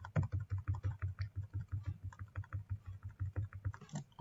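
Computer keyboard keys pressed for a Ctrl, Shift and down-arrow selection shortcut, heard as a rapid, steady train of close, even clicks that repeat about every fifth of a second throughout.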